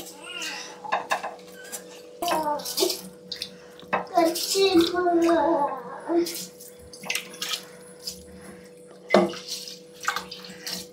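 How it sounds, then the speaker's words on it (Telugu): Ordinary non-basmati rice goes into a pot of water for chicken biryani on a gas stove, with splashing water and clattering pot and utensil sounds that come in bursts under a person talking. "ఇప్పుడు ఇందులో మనం రైస్ వేసుకుందాం."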